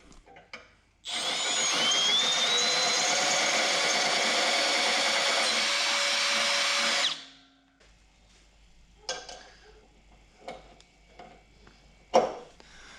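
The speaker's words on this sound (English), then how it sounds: "I think I'll make the hole right here in this bracket big enough to put the U-nut on." A power drill enlarges a hole in a metal bracket on a John Deere GX75 mower, grinding loudly and steadily for about six seconds, followed by quiet clicks and handling noises.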